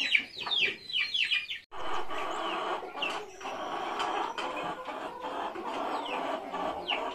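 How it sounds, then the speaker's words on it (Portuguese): Chickens shut inside a coop give a quick burst of high clucks and squawks, then a steady chorus of mid-distance clucking over a constant hum. "Primeira vez que as galinhas ficam presas na vida delas aqui dentro do galinheiro"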